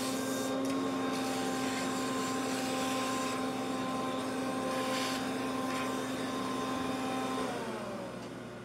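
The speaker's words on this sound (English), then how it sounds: "Vacuum things down." A vacuum cleaner runs steadily nearby with a loud, continuous whine, clearing up debris during work on a trolley hoist, then winds down slightly at the end.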